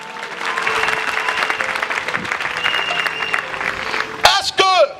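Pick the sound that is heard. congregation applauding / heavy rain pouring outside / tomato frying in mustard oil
congregation applauding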